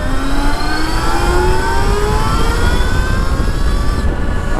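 An Ultraviolette F77 Mach 2 electric motorcycle accelerates hard in Ballistic mode, its loud motor whine rising steadily in pitch like a jet spooling up, with rushing wind noise underneath, close and continuous.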